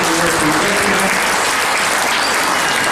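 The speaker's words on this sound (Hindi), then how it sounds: "एक बार जोरदार तालियां पहले उनके सम्मान में बजाइए।" An audience at a Hindi poetry recital bursts into loud, sustained applause, a thick wash of many hands clapping close by throughout.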